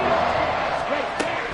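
Loud stadium crowd at a football game roaring and chanting continuously, building noise on a third-and-inches snap to try to force a false start, with a broadcast commentator talking over the din.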